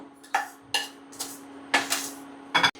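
Roasted rava moved from a pan into a bowl with a metal spoon, giving about five short bursts of scraping and clinking against metal, close and crisp over a faint steady hum, no talking.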